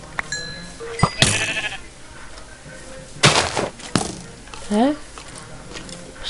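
Minecraft sheep bleat in a short wavering cry near the end, heard amid game clicks, hits and thuds, with a voice talking over the play.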